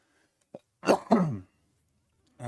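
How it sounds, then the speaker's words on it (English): A single close, sharp cough in two quick bursts after a small click, surrounded by near silence. "Sorry for the cough into the camera"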